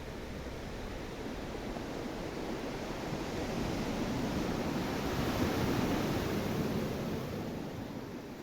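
Ocean waves wash onto a sandy beach in a steady, soft hiss of surf that swells gently and then eases, distant and even, with no voices.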